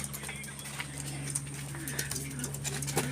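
Soft pigeon cooing among bird chatter over a steady low hum, with faint scattered background noise throughout.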